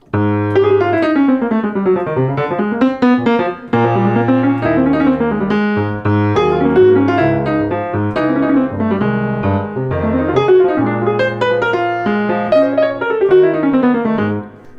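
Fast, busy jazz piano in bebop style, a running right-hand line over bass notes and chords, continuous and lively with no talking.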